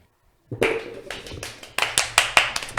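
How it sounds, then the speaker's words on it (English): Hand clapping starting abruptly after half a second of silence, a brisk run of sharp, close claps, sparse at first then quicker and louder toward the end. "I don't know if I'm supposed to be clapping like this"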